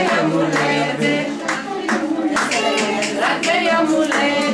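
Rhythmic hand clapping from a group at a two-year-old's birthday party in a kindergarten, steady beats running under children and adults singing a birthday song throughout.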